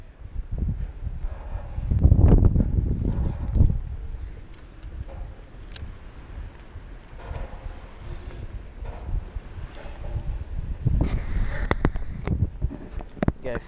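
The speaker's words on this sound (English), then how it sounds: "It's a little windy right now" Wind gusts buffet the microphone with low rumbling bursts, strongest early and near the end, with faint outdoor background noise, by decks at Lake Erie.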